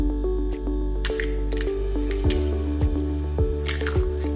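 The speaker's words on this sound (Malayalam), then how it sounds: "ഇത് അസംബിൾ ചെയ്യുന്നതിന് മുമ്പായിട്ടൊന്ന് പൊട്ടിച്ച് നോക്കിയാലോ" Crispy home-fried pani puri shells are cracked open by hand, giving a few sharp, close crunchy snaps spread over several seconds above a steady tonal background hum.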